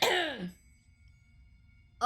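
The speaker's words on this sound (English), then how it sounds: "This cough, I'm telling you, it will not go away." A single harsh cough, close and fairly loud, lasting about half a second, followed by near silence.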